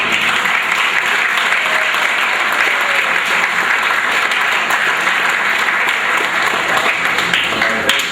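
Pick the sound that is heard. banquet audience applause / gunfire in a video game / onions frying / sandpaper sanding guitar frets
banquet audience applause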